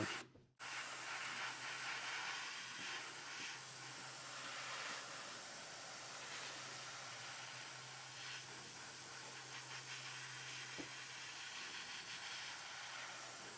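A spray can or airbrush hisses steadily while painting miniature feathers. It sounds close and faint and continues almost unbroken after a brief pause at the start.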